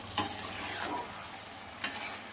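Potato and eggplant sauté in hot oil in a pan for a catla fish curry, a soft continuous sizzle broken by two sharp spatula scrapes against the pan, close and alone.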